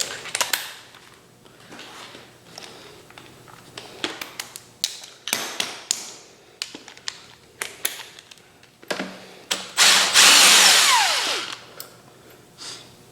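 A power tool works a bolt out of the front fork of a 1983 Yamaha DT80 enduro motorcycle: repeated short whirring bursts and clicks, then a longer sustained high whine, close and loud, with no speech.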